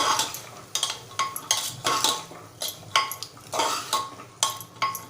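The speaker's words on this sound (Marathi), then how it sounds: "छान एकजीव करून घ्यायचं आपल्याला" A spoon scrapes and clinks repeatedly against a pan while Malvani masala and garam masala are stirred into a sprouted white peas curry, giving a steady rhythm of close, distinct strokes.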